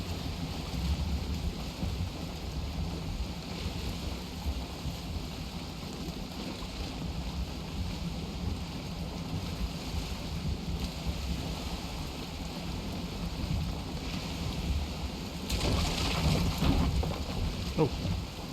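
A boat sails across open water in Valheim, a steady wash of wind, waves and hull noise running throughout, swelling briefly louder near the end.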